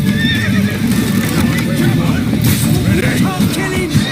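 In The Witcher 3, a horse whinnies and hooves clatter at a gallop amid loud, busy action, with voices shouting over the din.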